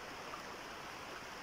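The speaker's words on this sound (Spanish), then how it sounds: "Ese arroyo que está pasando acá era donde estábamos alumbrando hace dos noches." A stream flows past at night, a steady broadband wash of running water that holds even and unbroken from start to finish, with no voices or other sounds over it.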